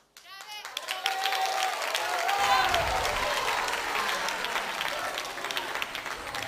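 Theatre audience at a live comedy show in Rome breaking into loud, sustained applause, dense clapping that builds after a brief spoken moment at the start and carries on strongly to the end.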